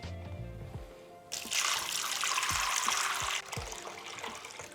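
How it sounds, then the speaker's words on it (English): Water pours into a pot of dry beans, starting as a steady, fairly loud splashing rush lasting about two seconds, then continuing as a softer trickle. "Then cover with plenty of water."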